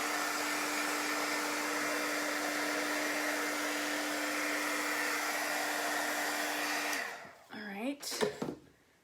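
A hair dryer blows steadily on a chalk-stenciled craft piece, a loud constant whir with a faint hum, then clicks off after about seven seconds, followed by brief handling noises.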